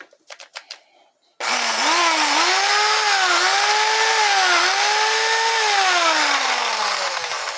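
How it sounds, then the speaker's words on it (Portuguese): A cordless drill-driver, repaired after a strange noise, whirs into a loud, steady high-pitched spin after a few clicks and taps, its motor pitch wavering slightly and then winding down at the end. "Furadeira e parafusadeira. Tá funcionando tudo ok aqui."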